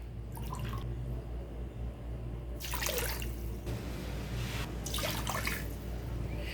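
Water runs and splashes into a pot already holding sugar in a few separate bursts over a steady low hum, close by.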